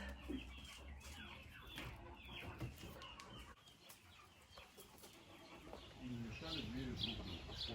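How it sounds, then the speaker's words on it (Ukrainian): Chickens cluck and call in a henhouse at a country dacha, a steady murmur of hens with a few louder calls near the end, while people talk in the background. "Ось де сидить курочка, і коли вона знесе яйце, воно скотиться і буде тут."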